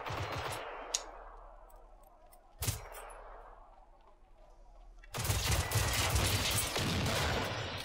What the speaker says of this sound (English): That one had a shotgun.